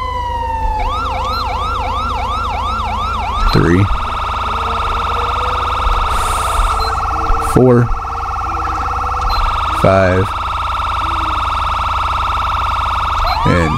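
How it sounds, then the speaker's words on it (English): Emergency light and siren mod police sirens in the video game GTA 5 LSPDFR, cycling between a rising-falling wail and rapid yelp patterns, loud and continuous, with a man counting under them. "Now to go ahead and activate your siren"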